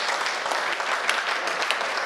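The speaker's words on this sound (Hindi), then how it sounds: "मेरा मन है कि जब तक वो यहां पर आए तब तक अपने दोनों हाथों को उठाकर जोरदार तालियां बजाएं।" Audience at a Hindi kavi sammelan poetry event claps loudly and steadily, a dense continuous burst of applause with no voices over it.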